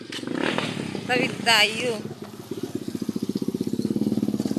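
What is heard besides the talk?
motorcycle passing by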